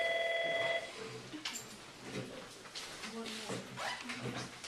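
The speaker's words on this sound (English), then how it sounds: "I'll get the phone in just a moment." A telephone rings loudly and steadily for under a second, then stops as voices and room noise take over.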